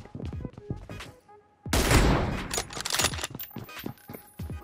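Gunfire in a shooting video game bursts in loud at about 1.7 seconds, with a dense volley followed by scattered shots and clinks, while players talk around it.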